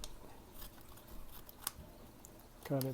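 Scissors make a single faint snip through a reagent powder packet from a Hanna alkalinity and phosphate test kit, set against a quiet background hiss, with a brief voice-like tone at the very end.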